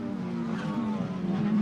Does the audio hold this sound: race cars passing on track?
yes